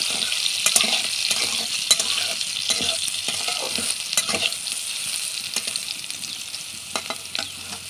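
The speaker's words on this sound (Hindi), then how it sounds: "भिजे रखी सोयाबीन बड़ी को तेल रे टिके भाजी देवा।" Soaked soybean chunks fry in hot oil as they are stirred, giving a bright, crackling sizzle with scattered scrapes and clicks of the spoon against the pan, close and alone.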